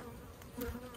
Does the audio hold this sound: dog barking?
no